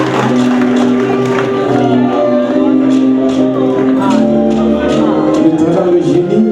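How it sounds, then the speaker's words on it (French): Applause from guests at the tenth annual gala dinner of the Pepawang Foundation in Paris, a dense, steady wash of clapping mixed with crowd murmur and scattered cheers, loud and close throughout. "Applaudissements"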